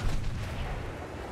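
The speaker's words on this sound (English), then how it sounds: "Come on, 20mm cannons. This can do something." Aircraft-mounted 20mm cannons firing in Ravenfield during a WW2-style air battle, a heavy, dense stream of booming shots in one continuous burst heard up close.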